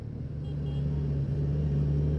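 A 2023 Kawasaki Z900 motorcycle on the road gives a steady low engine drone and rumble that holds level and close throughout, with no voices over it.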